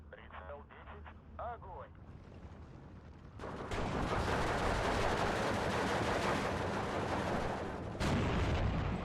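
Machine-gun fire in the World War II strategy game Steel Division 2: a voice speaks briefly at first, then a loud, dense, continuous burst of gunfire starts at about three seconds and runs to the end.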